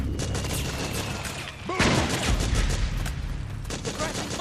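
Gunfire in Metal Gear Solid 4 as loud rattling bursts cut through a chaotic battle, with soldiers shouting over the shots.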